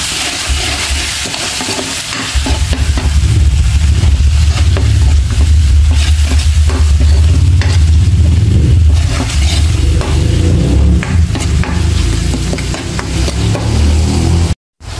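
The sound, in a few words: stirring fish sauce with pepper and seasoning in pan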